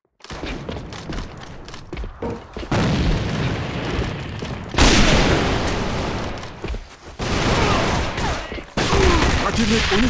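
Gunfire from a Glock pistol in the online shooter Alliance of Valiant Arms during a competitive match comes in dense, loud bursts and booming reports, with only brief breaks between the volleys.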